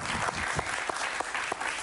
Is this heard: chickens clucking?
no